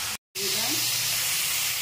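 Ginger frying in hot oil for a cauliflower curry gives a steady, close hiss and sizzle after a brief silent gap at the start.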